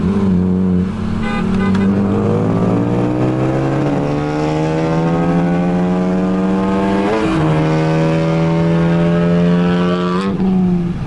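Engines of a turbocharged BMW 335i and a Lexus IS350 roar close and loud as the cars race, rising steadily in pitch through the gears with short dips at each shift.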